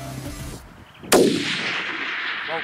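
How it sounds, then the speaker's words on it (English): A single loud rifle shot fired at a deer in long-range hunting in Australia, a sharp blast with a long rolling echo trailing across open country after a brief quiet lead-in. "Good shooting, Mike."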